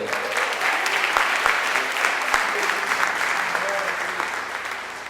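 Church congregation applauding, a dense sustained wash of clapping from many hands, loud and steady throughout, gradually tapering slightly toward the end.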